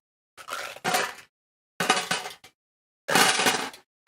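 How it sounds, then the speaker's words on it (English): Handfuls of dice are thrown into a metal snowman tin three times, each throw a loud, close burst of rattling, clattering clinks that quickly settles into silence. "So we're going to throw all these dice."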